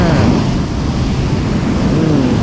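Ocean surf rolling in at Sendai's surf beach on a calm, windless day at rising tide, a steady close wash of moderate waves filling the whole stretch, with some faint wind rumble on the microphone.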